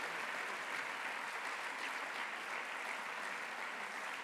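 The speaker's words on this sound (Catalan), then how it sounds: "Un fort aplaudiment" Steady, dense applause from the audience at the Sant Cugat awards gala, continuous and even throughout with no voices over it.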